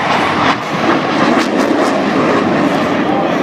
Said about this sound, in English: F-18 Hornet, the Super Hornet was designed to replace the aging F-14 Tomcats